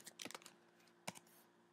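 Quick bursts of keystrokes on a computer keyboard while entering a command in a terminal, a short flurry of clicks followed by a pause and a final couple of taps, quiet and close.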